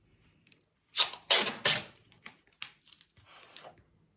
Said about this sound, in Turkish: Bakın böyle üstlerini bantlıyoruz